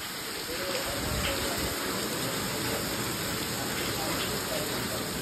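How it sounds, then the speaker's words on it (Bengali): Heavy rain pouring steadily during a storm, a dense, loud, unbroken hiss and patter close by that holds constant throughout with no talk over it. "প্রচণ্ড জোরে বৃষ্টি হচ্ছে।"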